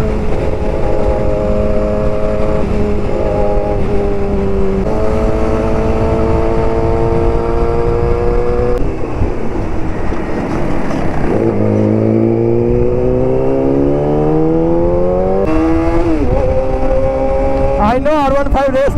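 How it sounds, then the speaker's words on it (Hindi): Vehicle engines race along a road, loud and close, rising and falling in pitch as they rev and pass, with overlapping drones and a sharp final acceleration. "देखो रेस लगा दिया भाई ने।"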